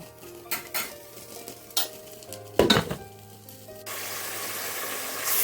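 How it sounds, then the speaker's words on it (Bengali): Spices and onions stirred in a pan for a beef rezala, with scattered spatula clinks and scrapes, followed by a steady louder sizzle as liquid hits the hot pan, close by and without talk. "সবগুলো মশলা পেঁয়াজের সাথে মিশিয়ে খুব ভালো করে এখন নেব"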